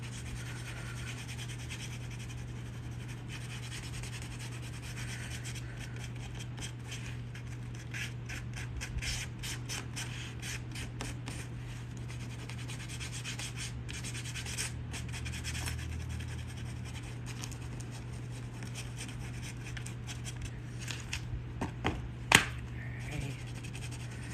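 Red buffalo leather is roughed up by hand, giving a quiet, continuous rasping and scratching, with a few sharper scrapes near the end.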